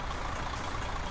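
Mercedes truck engine in Euro Truck Simulator 2, a steady low diesel rumble droning evenly throughout the brief stretch, with no talk over it.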